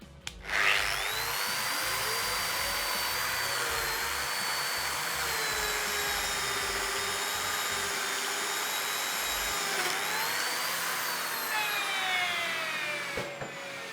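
A Lamello Zeta P2 biscuit joiner cuts a slot in wood with a vacuum attached, giving a steady high whine that runs for about twelve seconds before spinning down near the end.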